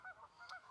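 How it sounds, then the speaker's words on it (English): Geese honking on a lake below a truck campsite on a snowy day, a few faint, distant nasal calls in a brief burst. "I'm sure you guys can hear all the geese down there."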